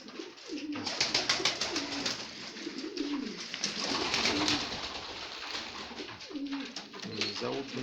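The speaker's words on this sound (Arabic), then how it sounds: "حمام رومي وحمام لاحم" Domestic and meat pigeons on a pigeon farm, repeated soft throaty coos close by, rising and falling over continuous rustling and flock noise, with someone talking over them.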